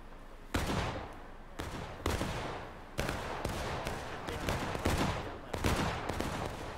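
Dense musket gunfire in War of Rights: overlapping volleys and individual shots crack continuously in a battle, some close and loud, others further off, with no voices.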